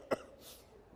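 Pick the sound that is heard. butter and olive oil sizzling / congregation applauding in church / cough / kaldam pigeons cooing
cough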